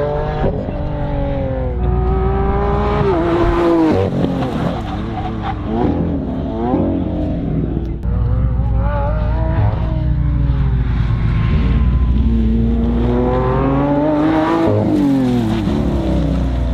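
Stage 3 Audi S6 and supercars such as a McLaren 720 on a private race track: a loud, continuous engine roar with rising and falling revs through gear changes, sustained at close range with no talk.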